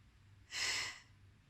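A single sharp breath drawn in during a home workout exercise, a short close airy rush rising and fading within about half a second against quiet.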